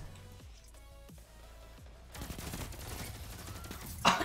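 Rapid pulse rifle bursts fire in a Destiny 2 Oracle raid, with dense crackling gunfire through the middle and a sharper close blast near the end, game effects and tones sounding underneath.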